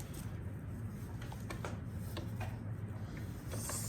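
A sewing machine runs a straight stitch down fabric for a bodycon dress, a steady low mechanical whirr with light rapid clicks throughout.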